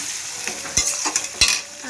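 Water added to a hot pan of frying fish, sizzling steadily with sharp bursts of spatter and scraping as the mixture is stirred.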